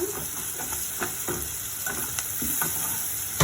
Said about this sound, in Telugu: ఆనియన్స్ అయితే దాదాపు ఫ్రై అయిపోయినాయి, ఆనియన్స్ అండ్ చిల్లీస్ ఇలా